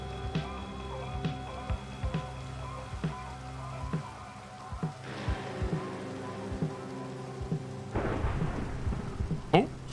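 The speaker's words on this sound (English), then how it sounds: "Oh, thunderstorm!" Thunderstorm in a video game: rumbling thunder with steady rain, several sharp crackling strikes punctuating the background at moderate, fairly faint volume.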